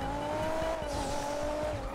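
Turbocharged Porsche GT3 in GTA RP racing at full throttle, a steady loud engine drone with rising and falling pitch, tire squeal layered over it, no talk.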